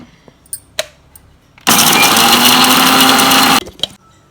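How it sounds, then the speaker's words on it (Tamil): A kitchen mixer grinder whirs loud and steady for about two seconds grinding garlic, chili and pepper for tamarind rasam, framed by a few clicks and knocks before and after. "இதை போட்டு ஒரு அரைச்சிக்கலாம்."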